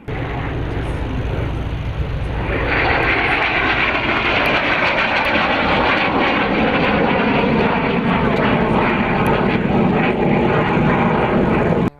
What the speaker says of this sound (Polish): te odrzutowce przez 25 lat były produkowane w USK PZL Mielec